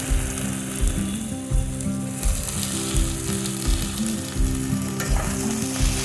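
Malabar spinach seeds frying in a pan with prawns, a loud steady sizzle and crackle with rhythmic stirring scrapes, close and continuous, without talk.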